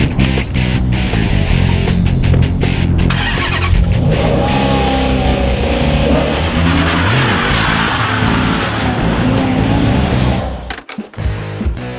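A 2012 Dodge Challenger muscle car roars loud and close, its engine revving hard and climbing as it pulls away, then briefly drops off near the end.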